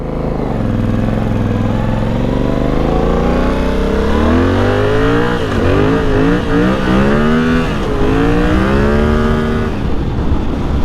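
A car drives along a gravel road, its engine note loud and close, rising and falling steadily as the throttle changes, with no one speaking.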